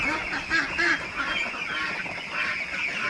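Ducks on an egg-laying duck farm quack and honk in a dense, overlapping chorus, with a few louder calls close by over a constant flock murmur.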